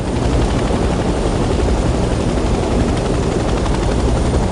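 A helicopter flying in the Vietnam-era war game Hell Let Loose: Vietnam gives a loud, steady rotor and engine roar that fills the whole stretch without letup, close and dominant with no voices over it.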